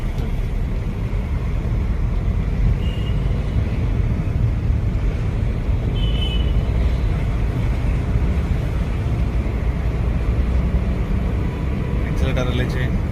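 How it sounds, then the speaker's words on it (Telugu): A car engine drones steadily during a driving lesson, a constant low rumble with road and wind noise that holds even throughout, then ends with a brief rattle. "ఇంజన్ సౌండ్ వస్తుంది కదా, కంటిన్యూ"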